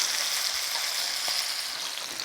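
Pork chops fry in a pan, giving a continuous, even, bright sizzle with no talking.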